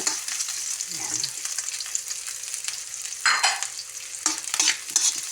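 Garlic sautéing in a pan with onion for a Filipino squash and string bean dish, a steady close sizzle with occasional stirring scrapes and clatters of a utensil, no talk.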